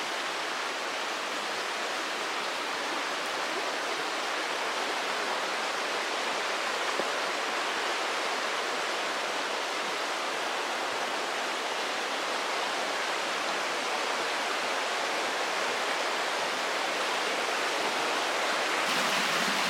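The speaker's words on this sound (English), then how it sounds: "There's the river crossing I was talking about where I might have to get wet." A river rushes steadily at a trail crossing on the Appalachian Trail, a dense, even roar of flowing water that holds close and loud for the whole stretch with no voices.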